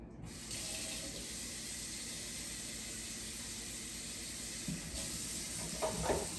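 Water runs into a hot pan of noodles, a steady loud hiss and splash lasting several seconds, with a few faint clinks near the end.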